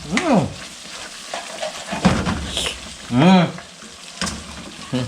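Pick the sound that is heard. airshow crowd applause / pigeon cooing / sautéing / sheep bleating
sautéing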